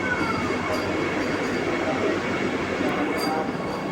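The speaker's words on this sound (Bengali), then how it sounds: "দেখো বন্দে ভারত যাচ্ছে, এটা বন্দে ভারত।" A Vande Bharat express train rushes past at close range, a continuous loud rumble of wheels and carriages that fills the whole stretch, with a voice speaking over it.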